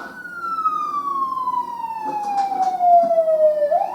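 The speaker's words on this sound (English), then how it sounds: "Do you not know how to turn off a fucking siren" A wailing emergency siren left running in a film scene, one long downward-sliding tone close and loud, with faint rustles and sounds beneath it before it rises again at the end.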